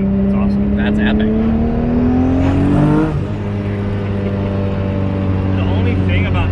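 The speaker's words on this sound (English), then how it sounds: "The boost builds up so much, the turbo lets it out instead of the blow off valve." A 1200 hp 2JZ-swapped MK5 Supra pulls hard with a rising engine note, then the turbo flutters in a rapid chatter as boost releases on the shift, engine dropping to a steady low drone afterward; loud and close, from inside the car.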